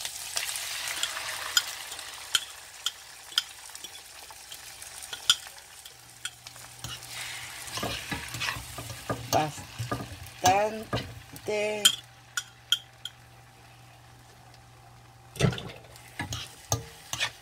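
Mushrooms and sausages frying in a pan with an egg being added, giving a soft steady sizzle with clusters of utensil taps and scrapes that grow busier midway, then quieter stretches broken by a few sharp knocks.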